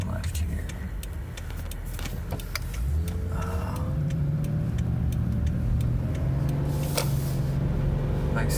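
Stage 2 tuned Subaru with a 5EAT automatic pulling away on the road at light throttle, a steady low engine drone rising gently in pitch, heard from inside the cabin.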